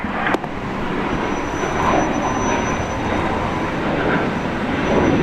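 Qantas airliner landing on runway 19 right at Brisbane International Airport, a steady broad roar of jet engine and rushing air that holds at a constant loud level throughout, with no voices.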